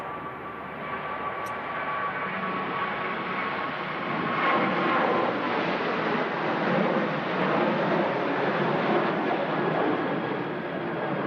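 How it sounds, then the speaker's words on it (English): A Ryanair jet airliner rolls and takes off at Manchester Airport in strong winds, a sustained broad engine roar that swells slightly midway and stays steady, with wind noise blended in. "Second consecutive Ryanair on the departure roll, producing a bit of spray."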